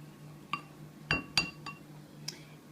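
Minced garlic mixed into hot and sticky wing sauce with a utensil, giving a few separate clinks against a glass bowl, close by and moderately loud over a quiet background.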